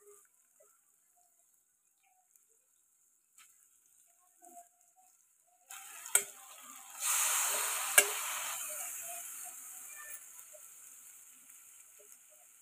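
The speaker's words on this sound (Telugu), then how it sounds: "ఇప్పుడు ఇవన్నీ హై ఫ్లేమ్లో పెట్టుకొని టాస్ చేసుకోండి." Egg noodles with fried vegetables tossed in a pan over high flame. The clip opens nearly silent with a few faint clinks, then a loud sizzle with scraping bursts that slowly fades.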